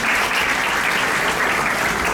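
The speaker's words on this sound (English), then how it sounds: "let us give them some honor by showing some applause for our First Nations" Sustained applause from an audience at a temple lecture during an ISKCON festival opening in Mississauga, a steady, dense wash of many hands clapping, loud and continuous without pause.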